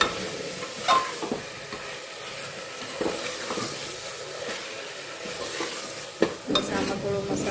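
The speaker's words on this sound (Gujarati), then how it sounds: "બસ આમાં થોડો મસાલો એકરસ થાય ત્યાં સુધી ચડવા દઈશું." Masala for vaghareli khichdi cooking in a pan, heard as a soft sizzle with intermittent scraping and clinks of a spoon against the pan, fairly quiet and close.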